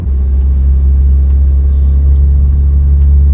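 A tuned car engine idles loud and close with a deep, steady rumble, its tone holding even throughout with no speech over it.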